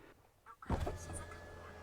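A power window on a 2021 Kia Mohave V6 3.0 4WD with one-touch up/down moves with a steady low motor hum, close up inside the cabin, starting after a short thump and running to the end.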